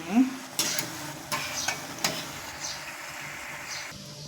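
Punugulu batter fritters frying in hot oil in a home kitchen, a steady soft sizzle with a few sharp ladle clinks and stirring scrapes scattered throughout, heard close and alone.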